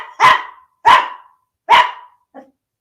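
A dog gives three loud, close barks spaced evenly about three quarters of a second apart, followed by a short, softer yip, with no voices.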